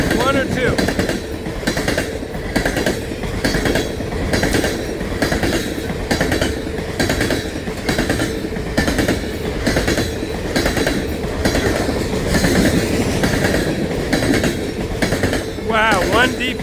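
A BNSF coal train rolls steadily past close by, its wheels beating a continuous rhythmic clickety-clack over the rail joints for the whole stretch, loud and unbroken.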